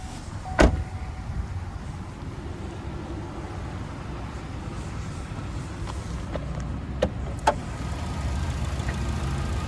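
A 2016 Chevrolet Spark LS with a 1.4-liter four-cylinder and 108K miles starts with a short burst, then settles into a steady, even idle heard close up under the open hood, with a few small clicks later on.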